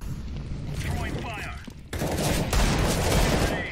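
Desert Eagle gunshots in a Counter-Strike style video game, sharp close cracks with echoing mechanical clatter, a couple of shots in quick succession amid game ambience and bursts of gunfire.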